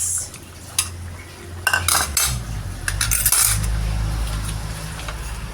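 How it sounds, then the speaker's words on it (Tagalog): Potatoes tipped into a metal pot of pork adobo, a few clattering knocks and scrapes of chunks and utensil against the pot, then low bubbling underneath, close and moderately loud. "So, ilagay ko na itong mga patatas."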